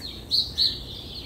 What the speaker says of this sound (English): Such loud birds.